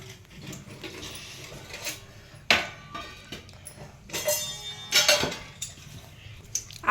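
A metal kadai is set on the stove with a few sharp clanks and knocks, followed by softer clinks of a spoon as oil goes in; the sounds are close, sparse and irregular, with no speech.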